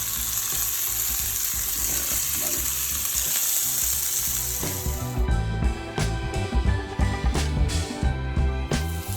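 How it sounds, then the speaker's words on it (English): Onions added to a hot pan searing lamb chops, a loud dense hiss at first, then choppier sizzling broken by repeated knocks and scrapes as the pan contents are moved. "So I'm gonna add my onions in here for some flavor"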